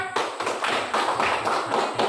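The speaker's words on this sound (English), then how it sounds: "please give a clap for group 4" A classroom of students claps for group 4, a quick burst of many hands patting together, moderately loud and close, with no talking over it.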